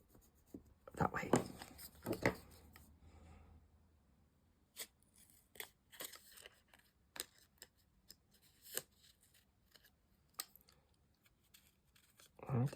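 Scissors snip through decoupage paper in quick bursts of crisp cuts, followed by scattered soft ticks and rustles of paper handling, close and fairly quiet.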